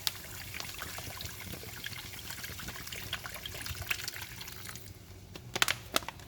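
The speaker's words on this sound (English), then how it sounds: "I'm gonna add some water." Water poured into a cooking pot of stuffed cabbage simmering with garlic, vinegar and sofrito, a faint continuous trickle and splash with a few sharper clinks toward the end.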